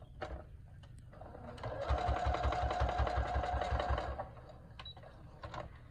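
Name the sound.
sewing machine stitching a fabric face mask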